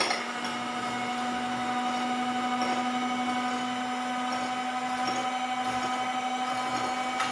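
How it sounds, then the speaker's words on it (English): An electric mixer beating coffee and sugar for brownie batter gives a steady, even motor whir with a constant hum, unbroken and close, no voices. "Get your electric mixer and beat it up until it becomes frothy and thick."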